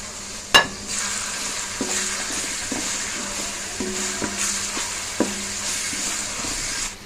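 Onions with salt and green chili fry in a pan with a steady, close sizzle, punctuated by several metallic clinks and scrapes as a spoon stirs them.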